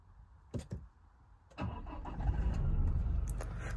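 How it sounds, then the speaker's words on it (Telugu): A car engine cranks briefly twice, then catches and settles into a steady, fairly close idle that continues to the end, with no talking. "ఫస్ట్ ఇంజన్ స్టార్ట్ చేసేద్దాం."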